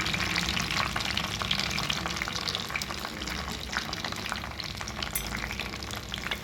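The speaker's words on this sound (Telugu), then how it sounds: "నూనె కాగిన తర్వాత ఈ టమాటా ముక్కలు వేసుకోవాలి." Tomato pieces fry in hot oil in a kadai with a dense, steady crackle and sputter that holds loud and close throughout.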